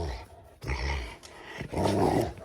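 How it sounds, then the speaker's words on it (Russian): A Rottweiler growls close and loud in a continuous rumbling snarl that rises and swells in waves, with no talking over it. "Фредди, что ты так рычишь?"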